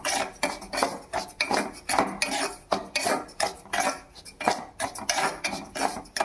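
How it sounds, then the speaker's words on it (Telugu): Spoon scraping and stirring semolina as it roasts in ghee in a pan, with steady repeated metallic scrapes and clinks at a close, even rhythm and no talk. "వేసుకున్నాక అది కొంచెం వేడెక్కాక రవ్వ బాగా వేపుకోవాలి"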